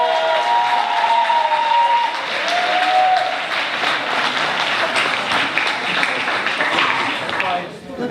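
Steady, dense audience applause at an African Liberation Day 2016 gathering, with a brief raised voice or cheer early on, continuing loudly for several seconds before starting to thin out.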